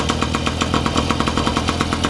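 A vehicle engine runs steadily in a shop while its transmission is tested, giving a close, even, pulsing drone with a regular beat and no voices.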